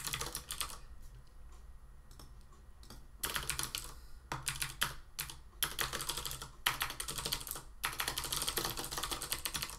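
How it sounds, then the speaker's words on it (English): Code typed on a computer keyboard in quick irregular bursts of clattering keystrokes, close and clear, with short pauses between runs and no talking. "I haven't typed out all this Objective-C stuff from scratch for a long time"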